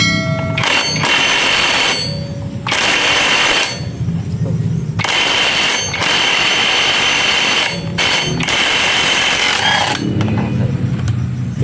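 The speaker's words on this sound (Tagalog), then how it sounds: "Napakalaking bagay talaga pag may impact wrench mga katriko. Mabilis lang yung pagtatanggal ng pulley." An impact wrench removes the CVT pulley on a scooter in a series of about five loud, rattling hammering bursts separated by brief pauses.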